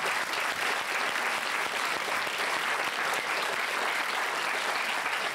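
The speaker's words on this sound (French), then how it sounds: "On peut applaudir" Sustained audience applause in a French television studio, dense and even clapping from a large crowd that holds steady throughout without any talk over it.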